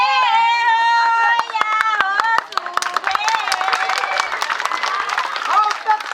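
Handclaps ring out during a Maithili street play outdoors, sharp individual claps sounding sporadically and then more densely, under loud singing and talking voices throughout.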